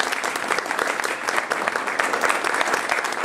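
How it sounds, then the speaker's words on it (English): Dense, sustained audience applause for the panelists at a civil disobedience discussion event, many hands clapping together in a loud, steady wash from a room full of people, without talk. "please join me in giving them a round of applause"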